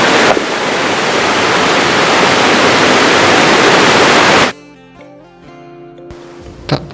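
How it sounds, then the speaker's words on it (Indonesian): A roaring waterfall pours with a loud, dense rush of water for several seconds, then cuts off abruptly to a quiet background. "Suara deburan air terjun yang sangat deras ini"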